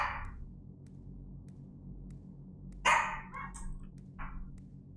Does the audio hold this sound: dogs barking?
yes